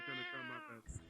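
A cat in the video game VRChat gives a long, wavering meow close by, ending in a soft rustle.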